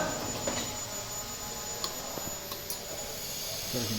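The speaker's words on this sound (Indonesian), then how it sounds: "Mesin dihidupkan, putar switch blower." A car's engine idles with the air conditioner blower running during freon charging, a steady, low engine and fan hum droning throughout at a quiet level, broken by a few faint clicks.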